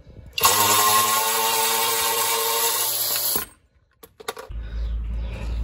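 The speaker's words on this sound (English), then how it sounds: "It'll be a lot easier with an electric ratchet, so we're going to use that instead." An electric ratchet spins on a 14mm hex bolt with a loud, steady motor whine for about three seconds. It then stops, and a few sharp clicks and a low rumble follow. The sound is close, with no talking.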